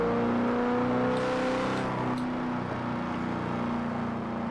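A car engine in Forza Horizon 4 hums steadily at low revs, a constant droning whir that holds level throughout, with no voices.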